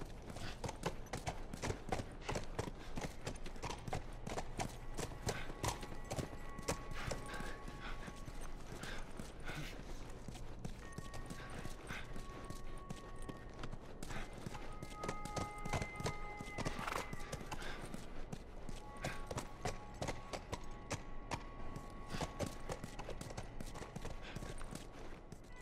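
Steady clip-clop of a horse's hooves walking in The Last of Us, continuous and fairly close, with mechanical game ambience and a faint whinny-like tone in the background.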